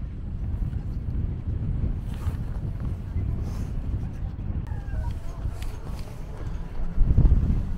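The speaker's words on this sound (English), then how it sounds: "It's very windy up here." Strong wind on a mountain top in the Pyrenees buffets the microphone with a continuous low rumble and gusty roar, swelling louder near the end, with faint voice traces underneath.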